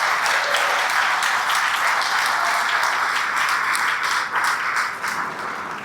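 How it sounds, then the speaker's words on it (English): Sustained applause from an audience at a chamber of commerce awards celebration, a dense, steady wash of many hands clapping that carries on throughout and eases off slightly near the end. "A big round of applause for them,"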